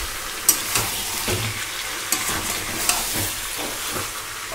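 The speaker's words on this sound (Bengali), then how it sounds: "এই পেঁয়াজটা ভাজা হতে থাক" Onions fry in a pan while the meat is being browned, giving a steady loud sizzle and hiss with a few stirring scrapes and clicks, and no voices.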